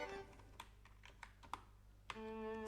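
Quick keystrokes on a computer keyboard during Python game coding, a handful of separate clicks with uneven rhythm, close and fairly quiet over a faint steady hum.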